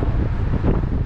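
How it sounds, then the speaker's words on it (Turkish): Wind buffeting a microphone outdoors on a city street while riding a scooter in Berlin, a loud, steady low roar filling the whole moment with no pauses. "Rüzgar da esiyor."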